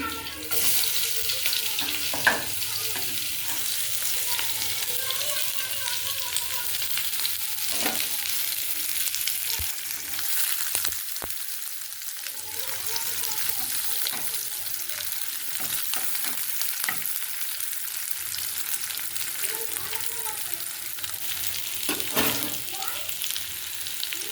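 Chopped onion frying in hot oil with a bay leaf and green chili in a pan, a steady close sizzle with occasional stirring clinks throughout.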